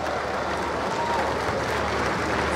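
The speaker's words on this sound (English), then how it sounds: "we shall still put our hands together and welcome him with a loud round of applause" An audience at the launch of Boeing's Sukanya women-in-aviation program on an Indian campus gives a steady, loud round of applause welcoming the Prime Minister, dense clapping sustained throughout.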